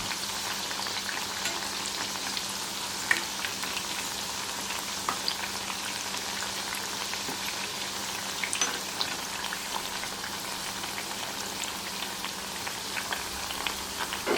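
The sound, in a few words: potato vadi frying in oil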